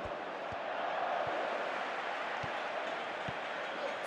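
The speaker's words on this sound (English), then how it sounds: "you can hear how the crowd are reacting to this too" Stadium crowd noise from PES 2018 football match play, a broad steady roar and murmur from many fans with a few faint thuds, moderately quiet and continuous throughout.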